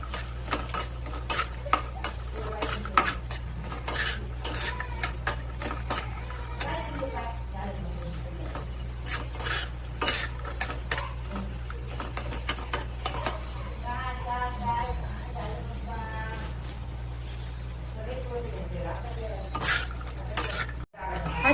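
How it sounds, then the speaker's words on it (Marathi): Grated coconut stirred in a pan of hot oil while roasting for a village-style chicken curry, with steady scraping and clinking of a utensil over a continuous sizzle, and a voice talking throughout. "नंतर हे जे कापून घेतलेलं खोबरं होतं ते घालूया आणि असं खालीवर करून घेऊया"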